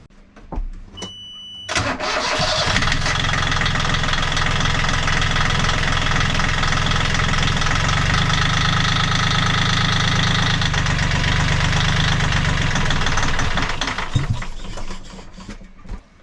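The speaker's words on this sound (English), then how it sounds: "I'm going to go ahead and start the engine and make sure she's all good." A Yanmar 3GM30 marine diesel engine on a boat cranks over with a ratcheting clatter, catches and settles into a loud, steady knocking idle, then cuts off near the end.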